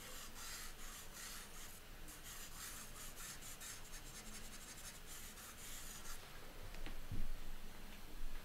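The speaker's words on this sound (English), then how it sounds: "And let's smooth this out. That pretty much erased it." A pencil eraser rubs back and forth across paper on a figure drawing, a faint, steady, dry scrubbing close by with soft brushing strokes near the end.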